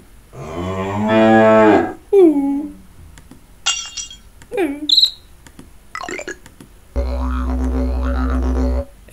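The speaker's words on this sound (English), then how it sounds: "Can you guess this sound of a cow?" A cow moos loudly and close, one long drawn-out low call followed by shorter vocal sounds, clinks and another sustained low tone.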